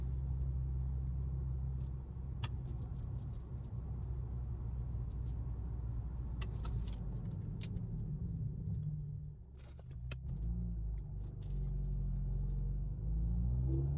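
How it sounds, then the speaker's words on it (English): A GLI fitted with new Brembo big brakes and two-piece rotors drives with a steady low engine rumble inside the cabin, the drone dipping briefly as it slows, with scattered clicks and creaks. "But here, we can do a little braking action."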